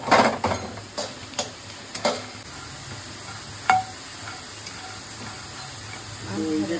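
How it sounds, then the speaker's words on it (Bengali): Makhana fox nuts stirred while dry-roasting in a hot nonstick pan, a soft steady hiss broken by scattered scraping clicks and rattles, with a voice speaking now and then. "এটার মধ্যে ঢেলে নেবো মাখানা। এবার এগুলোকে একটু শুধু শুধু নেড়ে নেবো।"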